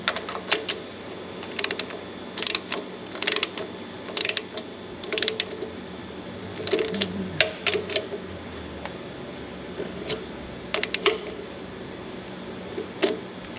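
Ratchet wrench tightening cylinder head bolts on a John Deere B tractor, bursts of quick close clicking repeated in short irregular runs, in a quiet workshop setting.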